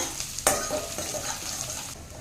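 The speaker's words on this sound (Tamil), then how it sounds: "இப்போ நல்லா கலந்து விட்டுறலாங்க" Chopped onions and a sprig of curry leaves sizzle steadily in a pan for tomato kurma while a spoon stirs through them. A sharp metal clack sounds near the start, and no one speaks.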